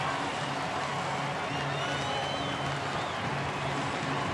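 A sellout baseball stadium crowd at a Brewers home opener roars after a three-run home run, a steady wall of distant cheering and clapping under a commentator's voice.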